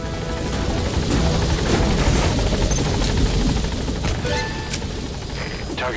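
Military helicopter arriving at a landing zone in Metal Gear Solid V, its loud, steady rotor thump and engine whine filling the scene up close alongside faint gunfire, with no talking over it.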